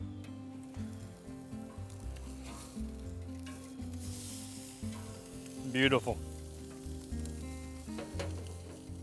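Tilapia sizzles steadily in a pan as it is flipped mid-cook, with a louder burst of frying around the turn and a brief spoken remark over the hiss.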